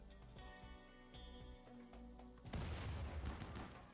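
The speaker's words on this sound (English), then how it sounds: "that explosion was so much bigger than I remembered it being." A sudden explosion in the colony-management game RimWorld, a broad rumbling burst arriving midway after a stretch of quieter game background, moderately loud and sustained to the end.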